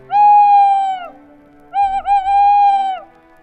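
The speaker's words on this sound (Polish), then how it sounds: "A następnie takie gatunki jak sowa," An owl hooting near the Jata nature reserve in Łuków forest district: two loud, drawn-out tonal hoots about a second each, separated by a short pause, the second with a slight wobble, heard close with no talk.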